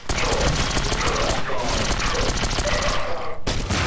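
A grenade in the video game Raising The Bar: Redux: Goreagulation goes off amid a loud, dense barrage of booming, crackling bursts that sounds like rapid gunfire, with a short dip near the end.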